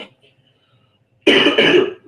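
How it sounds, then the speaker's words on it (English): A man with a lingering cough from being under the weather lets out two loud, harsh coughs in quick succession after near silence. "still have that crappy cough"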